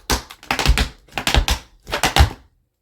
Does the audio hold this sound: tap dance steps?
yes